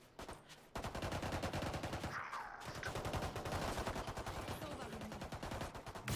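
Rapid automatic snow-gun fire in a Valorant match, a dense, steady rattle of shots that runs for several seconds after a brief pause, loud and close with faint background game noise.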